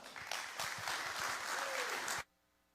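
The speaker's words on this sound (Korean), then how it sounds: "큰 박수로 환영해 주시기 바랍니다." A church congregation claps to welcome a guest speaker, a brisk burst of applause with a few sharper claps that cuts off abruptly after about two seconds into near silence.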